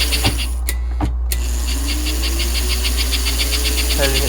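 A restored 1950 American Flyer #290 toy locomotive's motor runs at full throttle, a steady hum and whir with a fast repeating ticking, constant and close, with a couple of sharp clicks early on.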